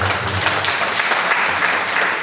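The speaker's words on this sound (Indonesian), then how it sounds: "Kita berikan tepuk tangan." Congregation applauding during a church sermon, a steady dense wash of clapping at moderate level throughout, with no voices over it.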